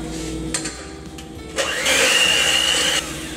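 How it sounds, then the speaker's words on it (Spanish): An electric hand mixer beating chocolate cake batter switches on with a whining motor hum, runs steadily for about a second, then cuts off. "Y ahora vamos a batir todo usando una batidora eléctrica."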